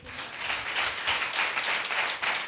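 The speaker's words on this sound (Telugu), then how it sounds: "ఒకసారి అందరు చప్పట్లు కొట్టండి" A church congregation claps together in a dense, steady burst of applause, close and moderately loud, with no talk over it.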